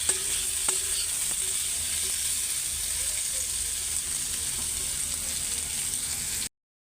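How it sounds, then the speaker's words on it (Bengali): Sliced bitter gourd and potato fry in hot oil with turmeric and salt, giving a steady, dense sizzle close up that runs unbroken, with a few faint clinks of stirring, before cutting off abruptly. "তো এই যে হালকা একটু হলুদ আর লবণ দিয়ে ভাজা নিতেছি।"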